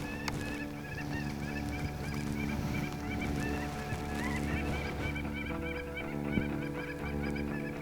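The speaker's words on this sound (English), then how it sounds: "I was playing the Lucky Bird sound on my Fox Pro call." Loud, continuous honking bird calls, goose-like and repetitive, played steadily from a FoxPro electronic predator caller with no pauses.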